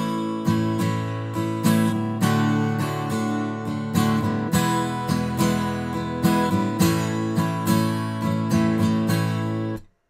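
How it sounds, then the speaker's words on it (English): Syncopated acoustic guitar strumming with two upstrokes in a row, steady rhythmic chord strokes ringing loud and close throughout, alone with no talking. "The result is I've got 2 consecutive upstrokes after each other, and the rhythm will sound like this"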